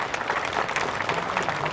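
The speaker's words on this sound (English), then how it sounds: "a round of applause for the catwalk party" Brief, moderately quiet applause from a crowd at a Remembrance Day ceremony in Penang honouring Royal Australian Air Force guards, a dense patter of clapping that holds steady for under two seconds.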